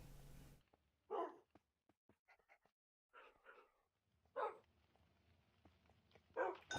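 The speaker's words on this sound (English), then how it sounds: "I know I'm just feeding the dogs" Tamed dogs in the video game Minecraft give several short, sharp barks at irregular intervals, with soft panting and whimpering sounds between them, close and fairly loud with no talking.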